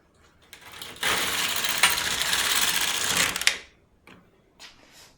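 An LK150 knitting machine carriage sweeps across a row of tucks in one loud, steady mechanical rattle and whir lasting about two and a half seconds, with faint clicks before and after.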